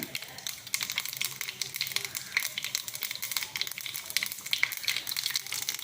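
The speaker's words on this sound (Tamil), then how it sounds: "கடுகு வடிச்சிச்சு" Mustard seeds splutter in hot oil in a pan, giving a dense, continuous crackle of small pops that stays close and fairly even with no talking.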